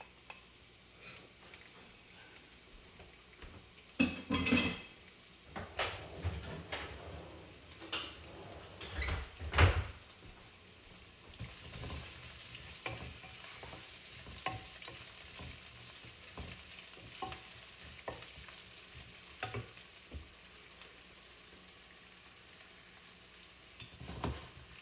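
Onions drop into a pre-warmed pot and fry with a steady soft sizzle that swells partway through, after earlier clanks and knocks of pot and utensils nearby.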